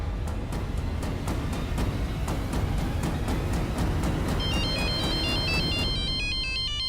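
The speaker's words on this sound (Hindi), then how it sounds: "एक मिनट, राहुल का फोन है, प्रोजेक्ट को लेके होगा" Incoming-call phone ringtone plays loud and steady on its own, with a repeating rhythmic pulse and a melodic chime pattern entering toward the end; no voices.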